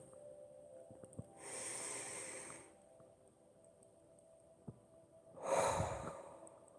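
Slow, deep breaths during a guided relaxation exercise: a long airy exhale, a pause of near silence, then a second fuller breath, close and soft in a quiet room.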